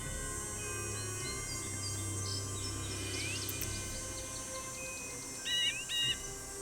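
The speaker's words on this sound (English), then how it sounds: "There's sounds of a crow." Bird calls and chirps ring out over a quiet outdoor ambience in the Nancy Drew game Ghost Dogs of Moon Lake, with a crow among them and a couple of louder calls near the end.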